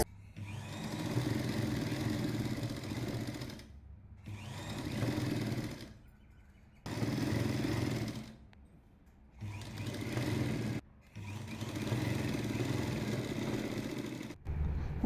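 Sewing machine joining a jacket's lining and main fabric along a full seam, running in five bursts of steady mechanical whirring separated by short pauses.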